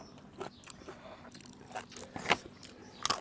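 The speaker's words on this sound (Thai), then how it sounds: "อืมกรอบเลย" Crunchy sun-dried pork is bitten and chewed up close, with sharp crisp crunches scattered among softer chewing sounds in a quiet setting.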